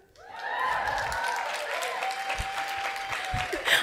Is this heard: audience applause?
yes